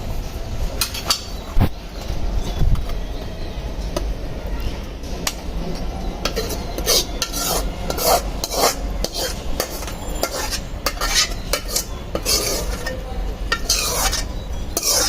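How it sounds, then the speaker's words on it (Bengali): Boiled soft mangoes being pressed and strained through a sieve in a home kitchen, with steady scraping, rubbing and light metallic clinks of utensil against mesh and pot, close and continuous. "এখন একটা চালনি দিয়ে আমগুলোকে ছেঁকে নিব।"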